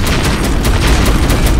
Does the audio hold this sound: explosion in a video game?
yes